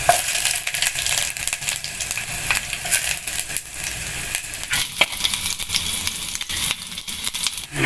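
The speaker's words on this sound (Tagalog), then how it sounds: "Gisahin na po natin ng bawang." Garlic and ginger sauté in hot cooking oil in a home kitchen, a steady broadband sizzle running the whole time with a few sharp clicks of a utensil against the pan.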